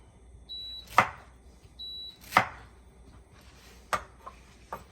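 A knife cuts through pineapple pieces on a cutting board, sharp chopping strikes landing at irregular intervals, close and fairly crisp, with no talk.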